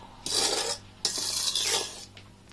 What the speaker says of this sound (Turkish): Mən hələ ki bir desert kaşığı duz ilave edib qarışdırıram